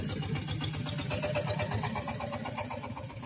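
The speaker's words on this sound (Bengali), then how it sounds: "মোটরের শব্দে মনে হয় কিছু বোঝা যেতেছে না" A motor boat engine runs steadily nearby with a continuous throbbing drone on the way to Sada Pathor in Sylhet, loud and unbroken.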